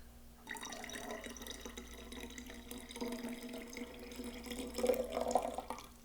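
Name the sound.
green tea being poured into wine must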